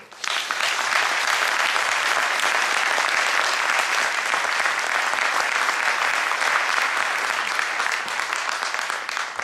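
A large university audience at an honorary doctorate ceremony in Tours bursts into sustained applause, a thick, even roar of clapping that starts abruptly and holds steady at full strength to the end.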